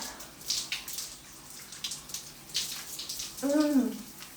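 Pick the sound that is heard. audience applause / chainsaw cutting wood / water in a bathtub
water in a bathtub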